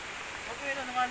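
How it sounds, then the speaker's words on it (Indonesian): Waterfall at Gunung Sao in Padang, West Sumatra, a steady broadband rush of falling water heard from a short distance, with a person talking over it in brief bursts. "Itulah air terjunnya guys."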